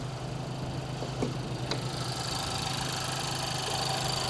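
An Acura Integra Type S engine idles steadily, picked up close to the airbox, a low even hum with a couple of faint clicks and no talking.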